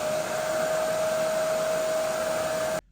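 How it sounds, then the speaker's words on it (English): A portable, lightweight pet grooming vacuum with a brush attachment runs with a steady, loud motor whine and airy rush, then cuts off abruptly just before the end. "you could even use it as just a vacuum around the house that's portable and lightweight"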